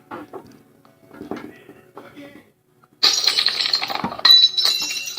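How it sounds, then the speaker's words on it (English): Breaking glass sound effect played for a guess-the-sound game: a sharp bright shatter bursts in after softer clinks and a short silence, followed by tinkling shards, with voices talking around it. "Breaking glass."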